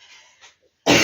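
A single sharp cough bursts out close and loud at the end, after a few faint indistinct vocal murmurs and a short pause.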